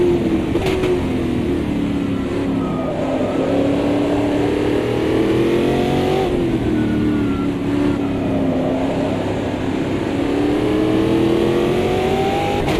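A race car engine in the sim racing game Automobilista 2 drives loudly and continuously, its pitch climbing through the gears with short dips at each shift.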